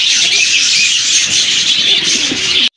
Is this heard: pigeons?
yes